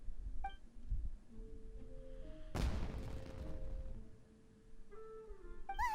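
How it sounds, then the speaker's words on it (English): A fireworks-like explosion in the Inazuma video game bursts suddenly midway, a single loud boom trailing into a decaying rumble, with quiet game tones before and after. "Fireworks!"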